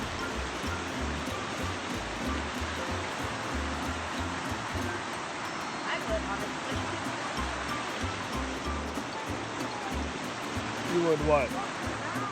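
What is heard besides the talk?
creek flowing in the Smoky Mountains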